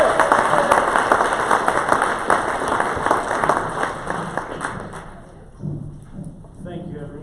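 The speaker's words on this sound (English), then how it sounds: "Give a round of applause." Audience applause at a November 2019 summit as a speaker is welcomed onto the stage, a dense, loud wash of clapping that holds steady for about five seconds and then thins out to a few scattered claps.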